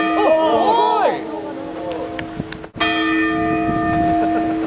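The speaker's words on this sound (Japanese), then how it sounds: "もうすぐ鐘の音が鳴るそうなのでちょっと聞きに行きます。" A large Japanese temple bell rings out loud and close, its long humming tone and shimmering overtones sustaining and slowly fading, with a second strike midway and a murmuring crowd of onlookers in the background.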